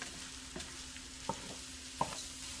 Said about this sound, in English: I just like to toast this rice a little bit